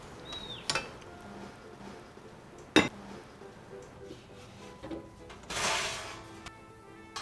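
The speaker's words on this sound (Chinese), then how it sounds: "把这锅汤放入烤箱" A pot of soup set into a preheated oven for slow stewing: a few sharp metallic clanks and knocks of the pot and oven rack, spaced apart, with a louder scraping clatter near the end.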